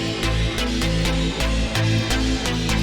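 A trance sample overprocessed with Ableton's OTT compressor, a dense, squashed wall of sound with harsh, hissy high end and pumping hits pulsing in a steady rhythm, loud throughout.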